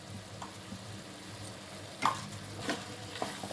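Spices being stirred into an egg and cauliflower curry in a pan, with soft scraping strokes and a faint sizzle close by, a few sharper clinks of the spoon against the pan.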